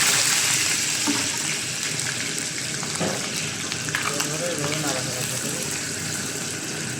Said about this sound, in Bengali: সিম ভাজা করতে এর জন্য তেল গরম হয়ে গেছে